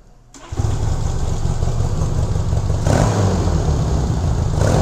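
A 1967 Honda CA77 305 Dream motorcycle engine cranks and fires up, settling into a close, loud idle that rises in a brief rev partway through.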